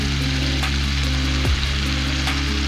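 Spices and garam masala fry in a pan for a prawn fry, making a dense, continuous sizzle with a low steady hum underneath and a single scrape of a spoon midway. The sound is close and loud.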